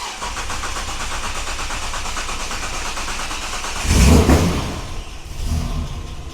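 A Nissan GQ Patrol's TB42 engine, freshly fitted with new spark plugs, cranks over steadily to pump fuel up, then catches with a louder burst near the end before settling into a rough idle.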